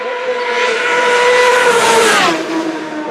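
Superstock racing motorcycles at the Isle of Man TT roar past at high speed, a loud, steady, high-pitched engine whine that sweeps downward in pitch as the bikes pass, with no talk.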